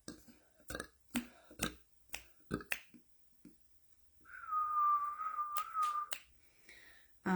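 A person whistles a short steady tone after a series of sharp clicks, close and fairly quiet.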